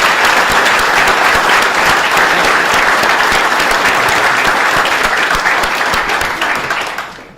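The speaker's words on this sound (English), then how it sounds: "let's give him another round of applause." Loud, dense crowd applause for a Staten Island Borough President at a public announcement, a steady roar of clapping that fades out near the end.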